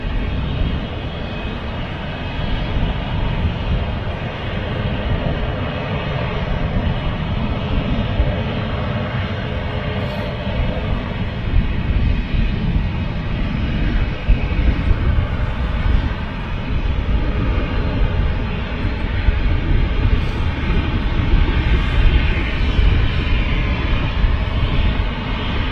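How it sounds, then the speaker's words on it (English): A Ryanair Boeing 737 jet at Manchester Airport, heading out on a flight to Billund, gives a loud, steady engine roar that goes on without a break, close by and with no voices over it. "Next is this Ryanair 737 off to Billund"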